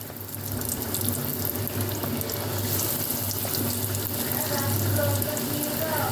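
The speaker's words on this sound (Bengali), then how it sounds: "দেখো কড়াইতে তেল গরম হয়ে গেছে, এবার আমি আস্তে আস্তে এগুলো দিয়ে দেবো।" Vegetable chops slide into a wok of hot oil and fry with a steady, loud, dense sizzle that holds without a break.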